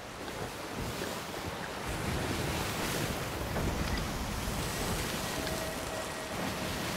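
Rough, heavy sea surging and crashing steadily in the pirate sailing game Sea of Thieves, with wind rushing over the broadband roar throughout and no voices.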